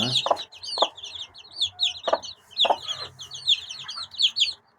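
Young Italian breed chicks and young cockerels give a constant stream of high, close cheeping, joined by several louder, harsher clucking calls from the growing birds.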